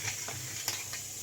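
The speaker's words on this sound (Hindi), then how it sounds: "थोड़ा सा ऑयल लिया और इसे मिक्स कर दूंगी" Cooked potato stirred with a little oil in a pan, heard as a few soft scraping clacks over a low background sizzle, close and without talking.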